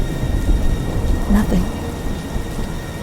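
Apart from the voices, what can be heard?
thunderstorm with heavy rain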